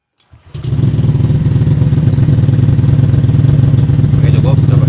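A keyless Honda Vario scooter engine cranks and catches, then settles into a steady, loud, close idle that runs for several seconds with no talking over it.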